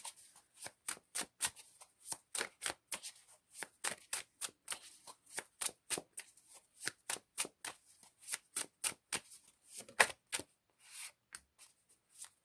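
Tarot cards being shuffled by hand, a steady run of crisp riffling snaps and flutters repeating in quick bursts, close and fairly quiet with no talking.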